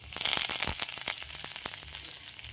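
Chopped garlic and curry leaves fry in hot oil for a chutney tempering, loud close sizzling with a dense run of sharp crackles and pops.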